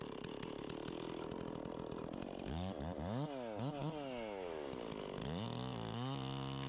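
Chainsaw cutting through an uprooted tree, its engine droning steadily and then revving up and down in repeated sweeping pitch swings as the chain bites into the wood, loud and close with no talk.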